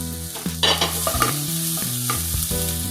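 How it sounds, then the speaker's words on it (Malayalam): Tomatoes fry in a pan for Kerala kadala curry, with a loud close sizzle and repeated scraping and clinking as a spoon stirs against the pan, in uneven bursts with no speech. "ചെറുതായിട്ടൊന്ന് വാടി കഴിയുമ്പോഴത്തേക്ക് തക്കാളി ഇടുക"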